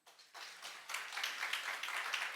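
Church congregation applauding at a Sunday worship service, a steady patter of clapping hands that builds in the first second and holds at a moderate, slightly distant level.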